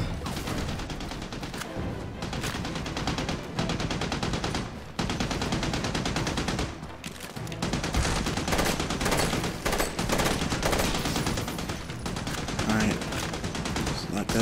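Machine gun fire in Army of Two: The Devil's Cartel during a pinned-down firefight, a dense, continuous roar of automatic shots with crashes layered over it, loud and near, under a running voice.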